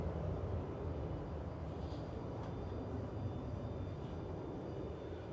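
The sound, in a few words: airliner landing in a gusty crosswind at Manchester Airport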